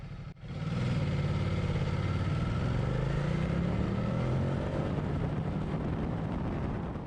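Ducati Multistrada 1200S motorcycle pulling onto a freeway, its engine droning steadily and loud from start to finish, pitch climbing gradually as it accelerates, with wind noise underneath.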